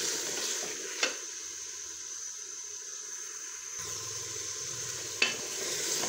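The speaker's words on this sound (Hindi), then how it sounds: "मेरे तीन आलू हैं जो मैंने दरमियाने साइज़ के काट लिए हैं और 1 कप है हमारे पास मटर। इसे डाल के हम अच्छे तरीके से भून लेते हैं।" Cubed medium potatoes and a cup of peas being stirred and fried into a Punjabi mutton karahi, a steady wash of sizzle with a couple of sharp scraping stirs of the spoon against the pan.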